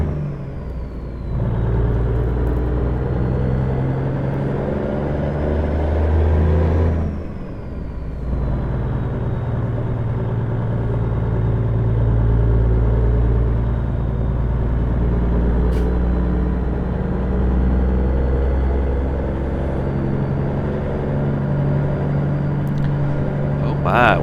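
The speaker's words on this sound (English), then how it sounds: "let's see if we can get away with a second gear start here" A worn Peterbilt 359 truck pulls away from a stop in second gear, its diesel engine a loud steady low rumble that dips briefly at a shift and then keeps droning close by throughout.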